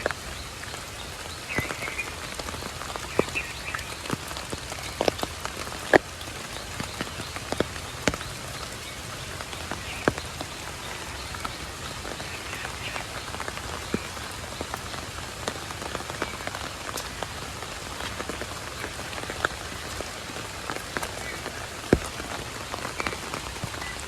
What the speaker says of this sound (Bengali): বৃষ্টিটা একটু পরে হইতো নাকি বাবা?